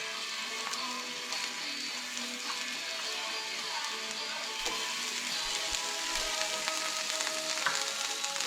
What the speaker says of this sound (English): the next thing to go in is the ginger and garlic.